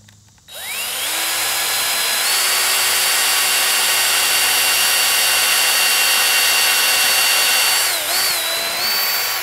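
A power drill whirs steadily for several seconds, its motor pitch rising as it drives a screw into a wooden door frame, then briefly dips and winds back up near the end.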